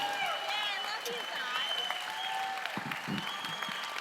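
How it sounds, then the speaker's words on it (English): An audience at a live broadcast of The Great Smoke 2025 applauds the virtual crew, steady dense clapping over a sustained tonal music bed with some crowd noise. "Everybody, please give a great round of applause to our TGS virtual crew"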